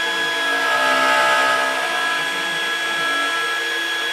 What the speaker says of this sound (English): Did a quick vacuum of some of the dust there.